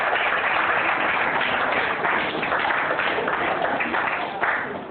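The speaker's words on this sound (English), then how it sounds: "I think it's a round of applause, please." An audience applauds steadily for several seconds at an anniversary event, a dense, even wash of clapping that fades slightly at the end.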